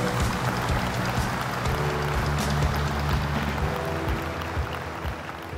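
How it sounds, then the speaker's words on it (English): Large audience at a technology conference general session applauding, a broad, steady wash of many hands clapping that fades slightly toward the end, heard from a distance in a big hall. "let's give him a warm round of applause"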